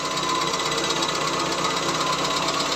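An engine idling at 800 RPM, with valve clearance and timing already set, gives a steady, loud mechanical clatter suggesting a lower-end knock from bearings or a pin, continuous and close with no talking.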